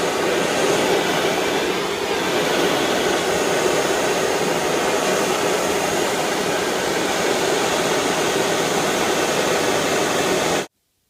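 A torch flame roars steadily while heating silver to solder a candlestick sconce, a loud continuous hiss held for about ten seconds before stopping abruptly.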